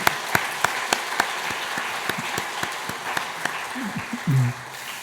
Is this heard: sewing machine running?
no